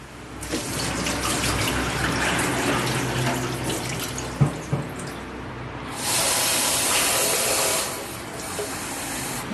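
Kitchen tap running in a small Japanese kitchen while rice is washed, water splashing and hissing into a sink with a few clunks, then a heavier gush of flow for a couple of seconds.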